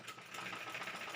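A sewing machine stitches a small square on a baby frock, its needle chattering in a fast, even whir, fairly quiet and close with no voice over it.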